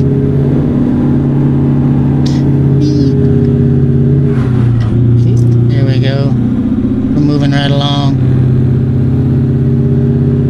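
A heavy truck engine in American Truck Simulator pulls steadily through its gears. Its loud, sustained drone dips in pitch at each shift and then climbs again.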